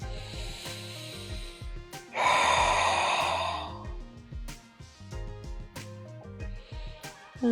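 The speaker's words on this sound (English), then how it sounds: "Take a deep breath here." A single long, audible breath during a low-lunge yoga stretch for lower back relief, a soft airy rush standing out over quiet background music with no talking.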